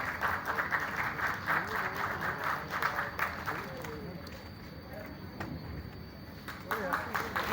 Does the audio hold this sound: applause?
yes